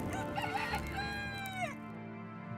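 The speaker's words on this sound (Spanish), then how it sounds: "enseguida cantó un gallo" A rooster crows in an animated Passion of Christ scene at dawn, one loud, close cock-a-doodle-doo that rises and then trails off, with no voices over it.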